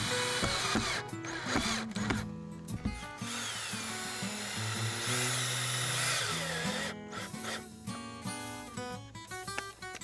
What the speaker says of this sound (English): First, clamping the panel, then screwing it in place.